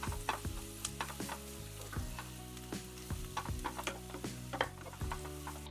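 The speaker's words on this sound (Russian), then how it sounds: "Слегка обжариваю, чтобы морковь стала мягче." Steady sizzling of carrots frying in butter in a pan, with occasional stirring clicks and a melodic tune playing throughout.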